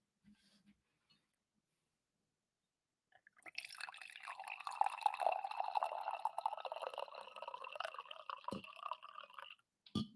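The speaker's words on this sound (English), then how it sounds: "get another coffee pour" Coffee is poured steadily into a cup for several seconds after a quiet pause, with a soft, close liquid splash that thins out at the end, followed by a faint clink.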